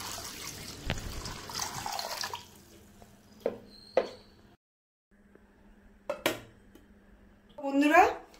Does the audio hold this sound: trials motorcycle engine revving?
no